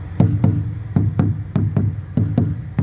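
Knocking by hand on an inflated tire of a Thai sand-racing truck to check its air pressure: a series of dull, hollow thuds in uneven pairs, close and fairly loud.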